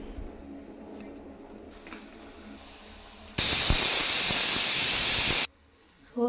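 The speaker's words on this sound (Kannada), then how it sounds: "ಎರಡು ವಿಷಲ್ ಆಗಿದೆ ಫ್ರೆಂಡ್ಸ್ ಗ್ಯಾಸ್ ಸ್ಟವನ್ನು ಆಫ್ ಮಾಡ್ಕೋತಾ ಇದ್ದೀನಿ" A pressure cooker on a gas stove lets out a loud, sustained hiss of escaping steam for about two seconds, set between quiet kitchen background and small clinks.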